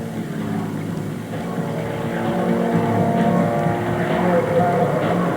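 Waco Mystery Ship vintage airplane flying at an EAA air show in Oshkosh, a loud continuous engine drone that holds steady and swells slightly, heard from a distance with no voices.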